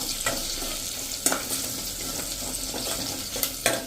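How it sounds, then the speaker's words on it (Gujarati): Curry leaves dropped into hot oil while cooking moong dal curry, a continuous close sizzle and crackle with a few sharper pops and stirring clatters, no voices. "હવે એમાં આપણે લીલા લીમડાના પત્તા લીધા છે, મીઠા લીમડાના, એને નાખી દેશું"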